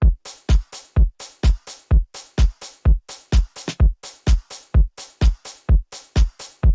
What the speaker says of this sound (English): and then an open head and a shaker playing on the offbeat.